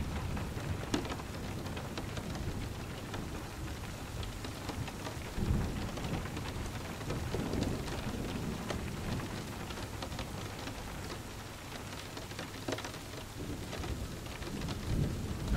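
Steady rain falls through a thunderstorm while low rolling thunder rumbles in the background. The storm holds a continuous, even wash of drops with no voices.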